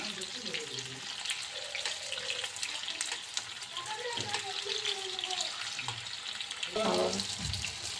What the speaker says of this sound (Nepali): टोफुलाई पनिर भनेको टोफुलाई यसरी फ्राई गर्ने।